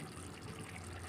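Liquid from fried cauliflower poured into a pan gives a brief, steady, faint gushing wash.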